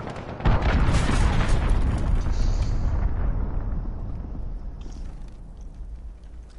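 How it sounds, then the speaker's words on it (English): An enemy cruise missile strike in Call of Duty Modern Warfare, a sudden loud blast that rolls into a long, heavy rumble and slowly fades over several seconds. "Enemy cruise missile, take cover."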